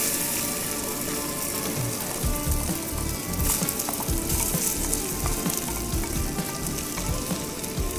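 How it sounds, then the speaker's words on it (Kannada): Half a kilogram of jackfruit pieces frying in hot ghee, a loud, steady sizzle with crackling bursts and occasional stirring scrapes, close up and without voices. "ಅರ್ಧ ಕೆ ಜಿ ಹಲಸಿನ ಹಣ್ಣು ಅದನ್ನು ಈ ತುಪ್ಪಕ್ಕೆ ಹಾಕೋಣ"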